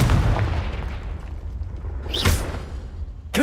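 Confringo fire blast spell from Hogwarts Legacy, a booming gunshot-like burst with a rushing whoosh near the end, loud and close over a constant rumbling background, with a second sharp crack at the very end.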